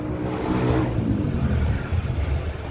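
A car engine cranks and runs after a jump start from a small lithium battery jump starter, a continuous rough low rumble with some revving, fairly loud and close, with no talk.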